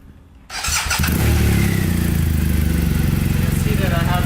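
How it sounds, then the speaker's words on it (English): A BMW R1200R motorcycle engine cranks over and catches at close range, then settles into a loud, steady idle with a rhythmic low throb that carries on unbroken to the end. "if I started the bike"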